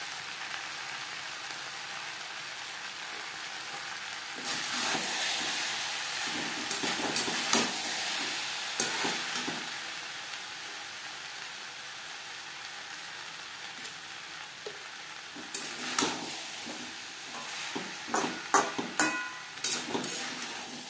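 Drumsticks and potatoes stir-fry in a pan over high to medium flame for a vegetarian drumstick curry, with a steady sizzle and bursts of scraping and stirring toward the end.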